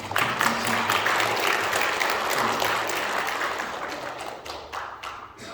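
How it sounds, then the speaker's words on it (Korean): Congregation at a Korean church Sunday service in Colorado Springs applauds welcomed visitors, a full, sustained roll of many hands clapping that slowly tapers off into scattered claps toward the close. "박수를 좀 하나 넣습니다"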